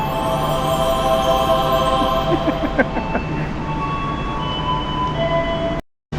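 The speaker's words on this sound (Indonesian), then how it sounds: "keretanya KRL-nya udah standby untuk ngangkut orang ini" An Indonesian KRL commuter train idles at a Solo station platform, giving a steady engine and ventilation hum with faint tonal whines and a few soft clanks, before cutting to silence near the end.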